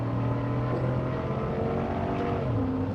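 A high-mileage Ford Raptor pickup with 225,000 miles idles steadily up close, its engine a continuous low, even rumble with a slight pitch shift near the end and no voices.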